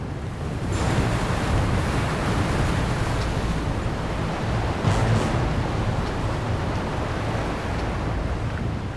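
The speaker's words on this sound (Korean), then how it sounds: "출렁이는 파도를 따라 배도 세차게 흔들린다." Rough autumn sea pounds around a cockle-fishing boat as strong wind roars across the microphone, a loud, unbroken wash of surf and gusts with no voices.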